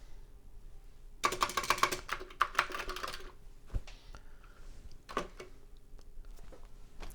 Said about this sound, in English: the keys are working